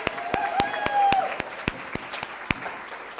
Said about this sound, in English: Give a round of applause to all the boys from Central who are here helping today.